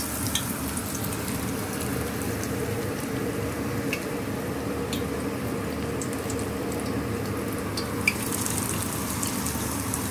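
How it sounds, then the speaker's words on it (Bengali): Bitter gourd pakoras fry steadily in hot oil, a dense continuous sizzle and crackle with a few louder pops, close and unbroken throughout. "এদিকে আমি তেলটা গরম করে নিয়েছি। পাকোড়াগুলোকে তেলের মধ্যে দিয়ে দিব এখন।"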